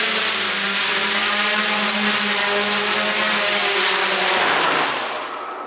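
A DJI Naza-controlled multirotor drone whines loudly and steadily with a buzzing propeller hum as it comes in to land, its rotor tone dropping away as the motors spin down at the end, with no talking.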